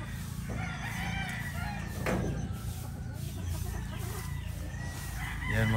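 Chickens clucking and rooster calls mixed together in a busy farmyard, with a steady low background hum and a louder crow near the end.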